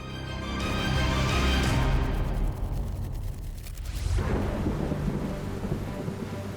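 Rainy-season thunderstorm: a deep rolling thunder rumble swells and fades over steady heavy rain hissing on surfaces, with a second surge of downpour later.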